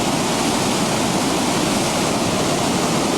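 Waterfall at Great Falls, a loud, steady, broadband roar of crashing water, close and unbroken throughout.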